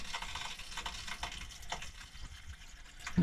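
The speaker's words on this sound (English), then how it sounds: "It's filling up the tank." Water running into a tank aboard an old Dutch barge, a fluctuating gurgling wash with irregular splashy surges, fairly close and without speech.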